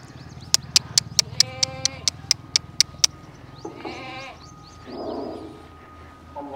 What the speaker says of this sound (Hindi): नीचे बकरी बैठी हुई है